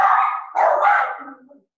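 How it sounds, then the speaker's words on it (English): A dog barks indoors: a few loud, close, high-pitched barks and yelps in quick succession, tailing off into a short whine, with no talking over it. "That's a dog."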